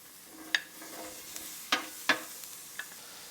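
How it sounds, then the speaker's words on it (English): Onion on a Blackstone griddle in grapeseed oil, with a faint, steady sizzle under a few sharp scraping clicks of a spatula on the metal surface. "we're going to put a little grapeseed oil on here, and we'll put our onion."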